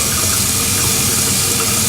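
Cold water gushing hard from a tap, a loud, steady, hissing rush with no break and no voices.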